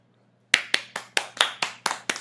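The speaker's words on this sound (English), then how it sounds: "Why are people clapping for this man?" Audience at a debate applauding in eight sharp, evenly spaced claps after a brief silence, loud and close.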